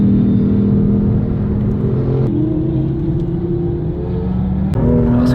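A car drifts on a race circuit, its engine a loud, steady droning rumble from inside the cabin that shifts pitch a couple of times as it holds the throttle, with no talk.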